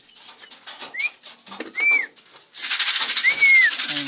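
Racing pigeons enter a loft, with a burst of fluttering wings near the end, preceded by a few short rising whistles and scattered light knocks.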